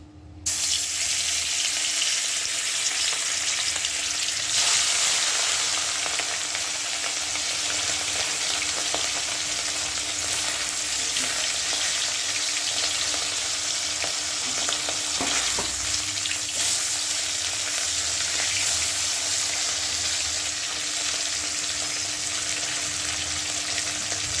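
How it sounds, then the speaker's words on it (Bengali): Katla fish frying in hot oil, a loud, continuous crackling sizzle that holds steady throughout with occasional spattering pops and no speech. "তেল গরম হয়ে গেছে, তেল দিয়ে ধোয়া হচ্ছে। এখন মাছগুলো ছেড়ে দেবো।"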